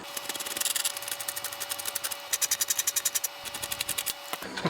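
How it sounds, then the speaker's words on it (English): Screws are backed out of a Bose prototype car radio that combines MiniDisc and Digital Compact Cassette decks, a close, rapid rasping and clicking of a screwdriver turning in repeated bursts, with no talk. "Now I'm going to go with the screws at the top that I can see."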